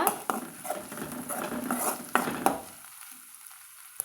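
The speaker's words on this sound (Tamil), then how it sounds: "சுண்டக்காய் திருப்பி நல்லா நம்ம கலந்து விட்டுக்கலாங்க" Turkey berries (sundakkai) fry in a pan while being stirred, with sizzling, a few sharp clinks of a utensil against the pan, and the sizzle fading away near the end.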